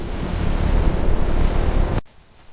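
Loud, steady rush of Siberian river water flowing again after the thaw, broadband and close, cutting off abruptly after about two seconds to a faint hiss.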